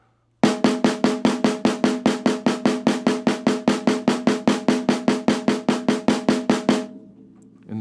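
Sixteenth notes are played on a drum at a slow tempo: about thirty evenly spaced, crisp, loud strokes in a steady rapid pulse, each ringing briefly, with silence before and after.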